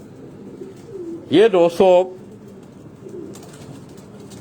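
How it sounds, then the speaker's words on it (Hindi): Malak Babar's pet pigeons give a short, close run of cooing notes at a house, sounding over a low background hum, with someone speaking softly nearby. "मलक बाबर साहब के घर के ये कबूतर हैं"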